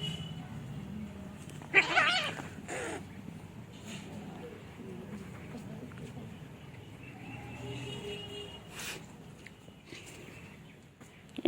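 Two pet cats, Chingri and Puchki, play together in the afternoon, with a sharp meow early on and a few more faint cries over a quiet indoor background, while a person talks softly now and then.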